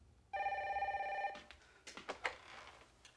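A telephone rings once in a home in Mobile, Alabama, a clear electronic trill lasting about a second, followed by faint rustling and handling sounds as the receiver is picked up. There is no talk.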